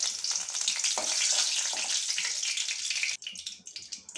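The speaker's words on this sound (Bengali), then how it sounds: "এবার শুকনো লঙ্কা, তেজপাতা ফোড়নে দিলাম" Dried red chilli and bay leaf hit hot ghee in a pan, giving a loud, steady crackling sizzle that drops off sharply near the end into softer spitting bursts.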